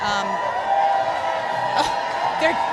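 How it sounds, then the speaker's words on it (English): An election night party crowd at a Colorado primary whoops and cheers in scattered bursts, with a steady hum of voices and talking throughout. "This is the strangest thing. They're cheering me."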